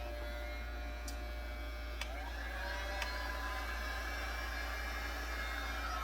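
Heat gun blowing hot air on a helmet visor during a fogging fix, a steady broadband whoosh with a low hum running the whole time and a few faint sharp clicks.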